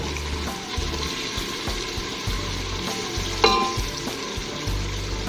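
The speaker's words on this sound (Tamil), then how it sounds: "ஒரு 5 செகண்ட் இது நல்லா வதங்கட்டும், இதோட நல்லா மிக்ஸ் ஆகட்டும்." Ground masala sautéing with onions and tomatoes for mutton biryani, a steady close sizzle with stirring scrapes and a sharp clatter midway.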